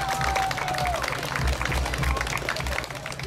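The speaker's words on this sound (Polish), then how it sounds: "Brawa!" Crowd applause after a fight at a Jarosław fair, loud and steady throughout with dense clapping, and a short tonal whistle near the start.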